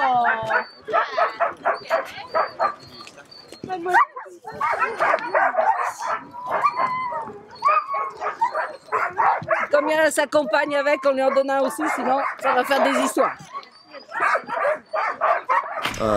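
Sled dogs bark, yip and whimper excitedly at feeding time, with an eager chorus of dog voices close by while a person talks over them.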